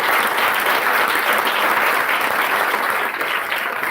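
Guests at an annual celebration dinner give the chefs a round of applause, a thick, loud, steady wash of clapping from a crowd with no speech over it.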